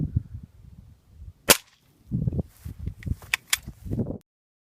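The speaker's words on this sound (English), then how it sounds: "So one more shot with a 22 short." A .22 Short subsonic round fires once as a sharp, close crack near the middle, amid faint clicks and handling rustle before and after.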